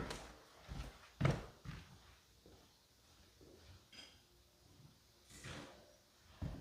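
Hardware is fitted into the doorknob of an old door, with scattered clunks, knocks and light rattles spaced out by quiet fiddling, close and fairly soft.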